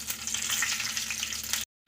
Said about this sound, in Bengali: ওই একই তেলে কালো জিরে দিচ্ছি ফোড়ন একটু হাতে ঘষে নিয়ে তেলের মধ্যে দিয়ে দেবো আর দিচ্ছি একসঙ্গে এই যে তিনটে কাঁচা লঙ্কা